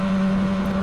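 A 1967 Yamaha YL1-E Twin Jet 100cc two-stroke motorcycle revs high while climbing a hill, giving a brief, steady buzzing drone.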